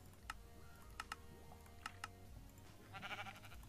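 A Minecraft sheep bleats once near the end, a short wavering cry following several sharp keyboard typing clicks, all quiet and close.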